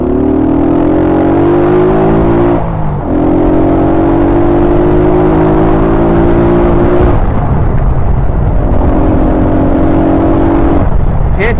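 Car engines drone steadily on a city street, a loud continuous motor hum with shifting pitch as vehicles accelerate and pass, close to the listener, with brief breaks between passes and no talking.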